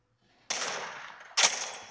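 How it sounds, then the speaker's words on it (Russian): Sniper rifle fire in the Android shooter game Forces of Freedom: two sharp, loud shots about a second apart, each with a lingering echoing tail, and no speech. "Слишком хорошо вот этот снайпер стреляет."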